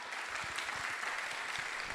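A theatre audience at a post-show school matinee discussion of Black Diggers claps in a continuous, full round of applause from many hands, steady and fairly loud throughout the brief moment.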